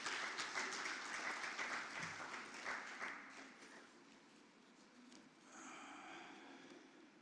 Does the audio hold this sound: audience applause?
yes